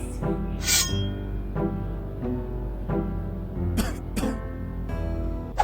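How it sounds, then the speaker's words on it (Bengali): A character in a Roblox murder game coughs several times in short, raspy bursts over a steady droning game background, with a couple of sharper squawk-like sounds near the end. "কাশি দিয়েছে তার মানে ঘুরে তাকাবেই।"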